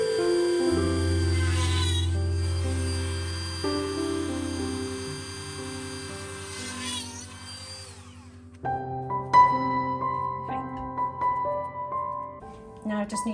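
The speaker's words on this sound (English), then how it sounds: "I'm going to use my Dremel tool because I've got more control." A high-speed Dremel rotary tool whines steadily while cutting for several seconds, then stops, followed by clattering handling noises close by.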